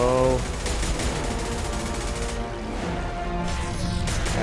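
Gunfire in the sci-fi shooter Mass Effect 2 rattles continuously throughout, loud and dense under music-like tones and a voice speaking.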